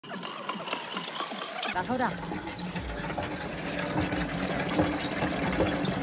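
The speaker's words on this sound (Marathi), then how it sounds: "अरे नळ चालूच आहे" Water running from a tap into a drum, a steady rushing fill noise starting abruptly and continuing under people talking nearby.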